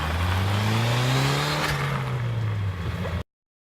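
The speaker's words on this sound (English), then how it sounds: "Do a burnout!" A Toyota Celica turbo doing a burnout: a loud, close engine drone that rises and falls for about three seconds, then cuts off.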